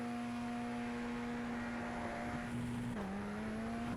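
A Radical SR10 race car engine in a racing sim revs hard at full throttle, a steady high drone that climbs continuously, with a brief dip around a gear change near the end before it pulls up again.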